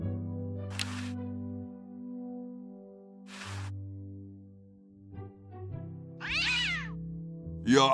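A cartoon cat in the Day of the Tentacle video game lets out a strained, wavering yowl, loud and close, between sustained low musical tones and brief noisy hits.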